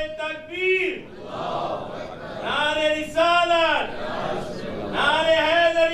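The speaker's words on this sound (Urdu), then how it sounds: "دیکھیں کانفرنس میں نعرے بھی لگے" At an international religious seminar in a museum auditorium, a crowd chants slogans in unison: several loud, drawn-out call-and-response bursts of massed voices with pauses between them, close and echoing in the hall.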